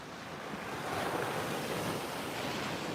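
Ocean waves break and wash onto a sandy beach at Tybee Island around sunrise, a steady broad surf roar swelling slightly midway, mixed with wind, with no talking.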